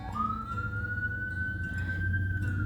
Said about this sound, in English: Noticing that siren in the background